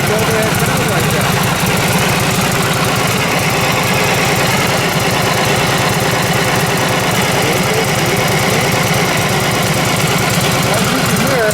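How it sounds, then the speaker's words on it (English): A restored 1937 Harley-Davidson EL OHV Knucklehead motorcycle idles loud and close with a steady, lumpy, rapid thumping beat that continues unchanged throughout, with a voice talking over it. "As you can hear, this bike idles totally different from the 47 we just showed you."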